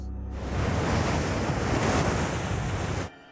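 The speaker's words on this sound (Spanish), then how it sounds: "Lo único que puedes ver es el blanco del agua rompiendo sobre las rocas." Heavy surf breaking against rocks on a stormy coast, a loud, continuous roar of crashing white water with wind noise, rising abruptly and cutting off near the end, no voices.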